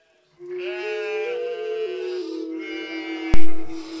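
One sheep gives a single drawn-out, quavering bleat close by, followed by a sudden loud knock or thump as the call trails off.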